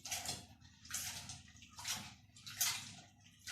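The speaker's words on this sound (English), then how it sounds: "So now I am going to wash it a bit and then I'm going to drain the water." Soaked samp being washed in water, with repeated sloshing and splashing bursts in a steady rhythm, close and fairly quiet.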